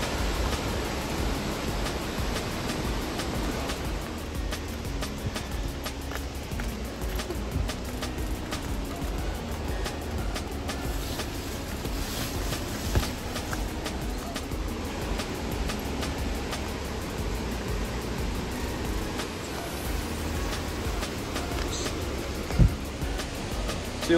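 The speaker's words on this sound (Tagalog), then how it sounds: "Napakalakas na waterfall." Steady broadband roar of Daday Falls, a powerful waterfall in Alamada, Cotabato, heard from a concrete trail, continuous and loud with no voices.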